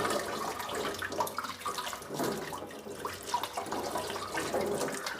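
Water runs steadily from a tap and splashes nearby as a water purifier filter is rinsed under the stream, a continuous close-up gush with no voices.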